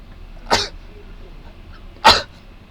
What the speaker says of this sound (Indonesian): mohon maaf saya batuk ya